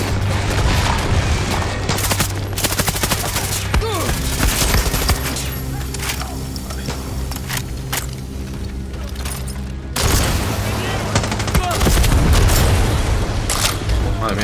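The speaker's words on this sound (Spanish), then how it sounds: "¡Unos cohetes!" Rocket explosions and rapid gunfire in the video game Far Cry 6, dense bursts of automatic fire and heavy booms running throughout, loud and close, with a voice talking over the combat.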